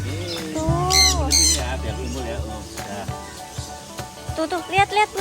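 Birds squawking and calling at Gembiraloka Zoo, with flamingos and black swans nearby, several loud close calls rising and falling among a child's and adults' nearby talk.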